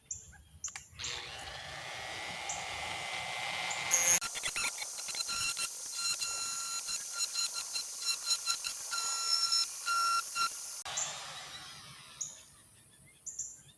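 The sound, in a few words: die grinder carving walnut tobacco pipe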